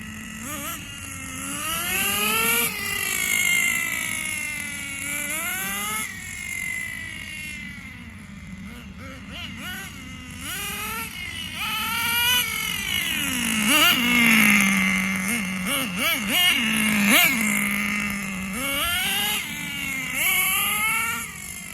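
A Thunder Tiger Tomahawk XL RC car's small nitro engine runs nearby, repeatedly revving up and falling back in sharp whining sweeps, loud and unbroken.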